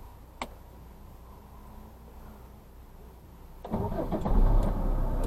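A car engine cranks and catches near the end, rising from quiet background into a loud, close running rumble after a brief click early on, with no talk.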